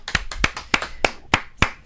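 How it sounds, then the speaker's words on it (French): Hands clapping at a French talk event, six sharp, evenly spaced claps about a third of a second apart, close and distinct, like a small group or a single person clapping in rhythm. "Bravo Messaoud, on va applaudir, hein"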